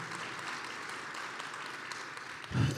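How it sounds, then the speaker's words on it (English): Applause for Governor Dunleavy at a public event on the Alaska LNG project, a steady wash of clapping from an audience that stays even and moderately loud, swelling briefly near the end. "if we give him a round of applause for that support"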